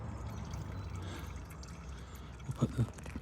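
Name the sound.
engine oil draining from a Seat Leon 1.4 TFSI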